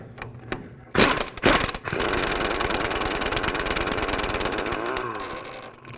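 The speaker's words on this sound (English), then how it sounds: "use your impact with a 24mm socket to remove this." Impact wrench with a 24mm socket removing the tie rod nut on a 2009-2010 Dodge Ram 1500, a few short bursts followed by a sustained loud rattling hammer for about three seconds that tapers off, close and alone.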